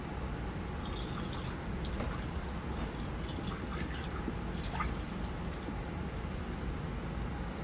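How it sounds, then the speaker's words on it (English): A lab beaker is rinsed with deionized water, with continuous splashing, dripping and filling under a steady running-water wash at close range, and no talk. "In case they didn't do that, we're going to do another rinse just to make sure it's actually clean"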